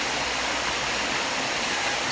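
Steady, dense rush of flowing water at a water park in a holiday village in Ibiza, loud and continuous with no pauses and no voices.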